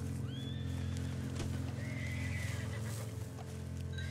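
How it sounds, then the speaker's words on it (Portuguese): Horse in the Red Dead Online video game, a clear neigh and whinny over rhythmic clip-clop hooves, close and steady with low game ambience beneath. "Não é um cara, não. É um cavalo, colega."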